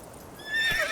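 Geralt's horse Roach in The Witcher 3 gives a short, clear whinny that rises and trails off within a second, with a faint hoof clop beneath, no voices.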